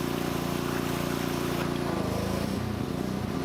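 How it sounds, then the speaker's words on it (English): Water gushing from a pressurized vessel during a hydro pressure test, a strong continuous rushing and churning flow, loud and close with a low rumble underneath. "looks like we got a geyser"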